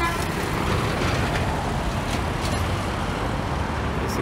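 A green Marcopolo G6 LD city bus rolls past in street traffic: a steady, close, broadband road roar that holds for about four seconds with no clear breaks.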